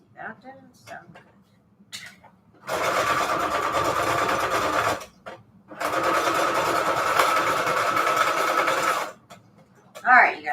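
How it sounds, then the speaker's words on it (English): A home sewing machine runs roughly in two long, loud whirring bursts with a harsh rattling edge, and a person talks briefly before, between and after the runs. "see if my sewing machine is going to explode on me or not."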